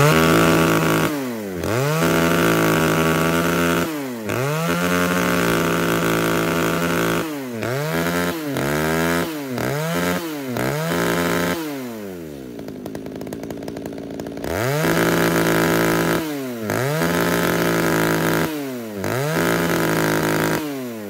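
A used Japanese chainsaw engine revving loudly on test in repeated bursts, pitch rising and falling with each throttle pull, dropping briefly to a lower idle midway before revving again.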